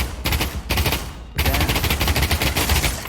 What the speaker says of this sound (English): let me go ahead and shoot it